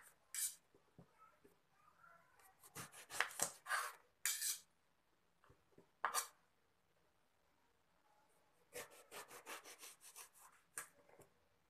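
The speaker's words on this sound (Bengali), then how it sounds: "এখন আমি বেগুনটাকে কেটে নেব।" A knife cuts a large round brinjal (eggplant) on a board in short bursts of crisp slicing and scraping strokes, close and clear, with quiet pauses between the bursts.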